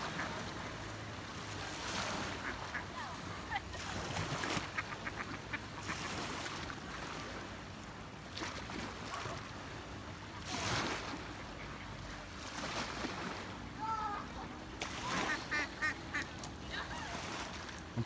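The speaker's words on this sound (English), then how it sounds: "I'm pretty sure these are just all mallards." Mallard ducks quack in scattered bursts on a lake amid the continuous wash of surf and water, with the calls rising above the background noise at moments.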